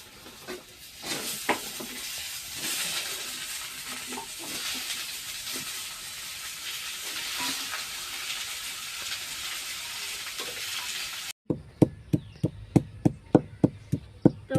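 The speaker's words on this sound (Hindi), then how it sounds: "मेरी सब्जी भुजा रही है" Onions and potatoes frying in a pan in a village kitchen, a steady broadband sizzle that carries on for most of the stretch before giving way to a run of sharp, regular knocks or chops near the end.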